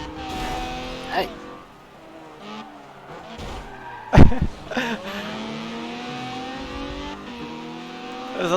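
A race car engine in the video game Forza Motorsport 7 drones and revs steadily with tire squeals and a sharp thump midway, while voices talk over the game sounds.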